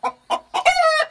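A chicken clucks close and loud: three short, sharp clucks, then a longer drawn-out call, with no talking.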